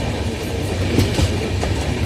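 A crowded passenger train heading into Patna Junction, heard from inside: a loud steady rumble with rhythmic clickety-clack of wheels over rail joints and faint rattling, no voices standing out.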